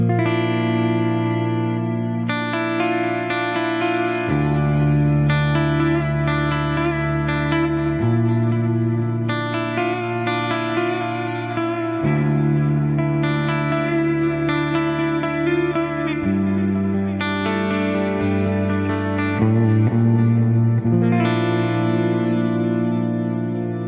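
A Schecter Keith Merrow Mark III Hybrid electric guitar on its middle pickup plays a long run of effects-laden chords and riffs, with reverb and echo trails, loud and steady with no talk.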